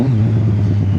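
Motorcycle engine revving steadily as gears are shifted without the clutch, a loud, close, continuous mid-pitched drone with a brief dip in revs near the end.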